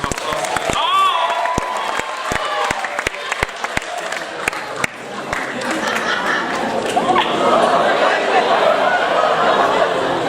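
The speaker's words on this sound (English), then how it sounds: "Everyone give this lady a round of applause." An audience at a ticket-prize draw during a community stage event breaks into applause and cheering, a dense crowd wash with scattered claps and whoops rising and holding strong through the end.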